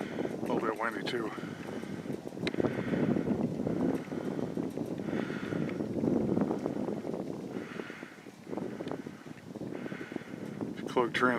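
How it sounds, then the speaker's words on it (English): Wind gusting at a hilltop tower site, a steady rushing buffet on the microphone with swelling gusts, while a person talks over it. "A little bit windy too."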